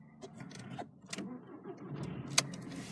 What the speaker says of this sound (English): no issues at all starting the car.